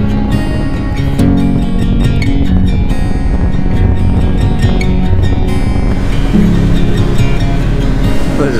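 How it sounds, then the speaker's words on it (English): Strong wind and rough sea wash around a sailboat off New Caledonia, a loud continuous rush of surf and spray with gusty swells, steady throughout and no one talking. "There's a bit of wind out there."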